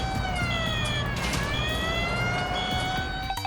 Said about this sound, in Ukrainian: Оголошено тривогу.